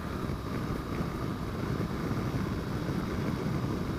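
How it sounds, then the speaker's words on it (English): Steady low roaring wind buffeting a 2018 BMW R1200 GS motorcycle at speed with its small manually adjustable windscreen in the down position, continuous and loud throughout with no talking. "A lot of wind noise coming through here in the low."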